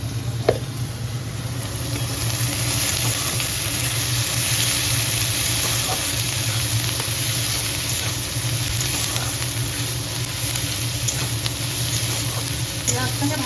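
Onions frying in a pan for a potol aloo chingri curry give off a steady, close sizzle that holds evenly from start to finish.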